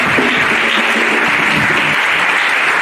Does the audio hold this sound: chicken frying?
no